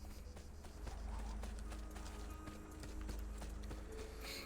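Horse hooves clip-clop in the Assassin's Creed 2 game world, a quick run of faint clattering steps over low rumbling ambience and mechanical noise, with a soft whinny-like sound near the end.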